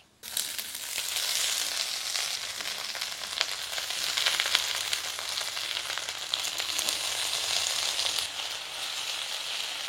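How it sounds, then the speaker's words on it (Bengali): Onions fry lightly in a pan with a continuous close sizzle, bright crackling spits scattered across it, starting abruptly after a quiet moment and holding steady to the end. "পেঁয়াজটা আমি বেশি ভাজবো না, পেঁয়াজটা একটু কাঁচা কাঁচা ধরনের থাকবে"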